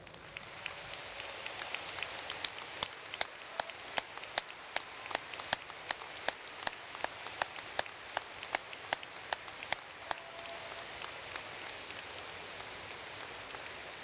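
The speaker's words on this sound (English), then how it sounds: "could we give them a round of applause?" A commencement audience gives a long round of applause for veterans and active service members, dense clapping that builds and then fades over about fourteen seconds, with sharp individual claps standing out.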